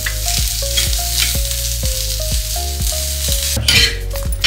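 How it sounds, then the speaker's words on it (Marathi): Onions frying in a little plain oil with ginger and garlic for a homemade chicken masala: constant loud sizzling with repeated sharp clinks of a utensil stirring against the pan, no voices. "तर मी थोडंसं नॉर्मल तेल घातलेले। आपण कांदा लालसर भाजून घेऊया।"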